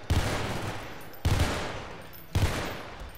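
Three loud M14 rifle shots fired in the Garry's Mod DarkRP video game, evenly spaced about a second apart, each a sharp close blast with a decaying tail.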